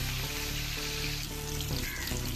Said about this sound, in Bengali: আমি এই রান্নাটা সর্ষের তেল দিয়ে মাছগুলোকে আমি একটু এপিট ওপিট করে ভালো করে লাল লাল করে ভেজে নেবো।